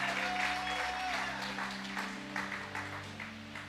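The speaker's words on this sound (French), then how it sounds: "And I would like you to clap your hand for the Lord." A church congregation claps for the Lord, steady dense applause throughout at moderate distance, with a sustained musical tone and some voices mixed underneath.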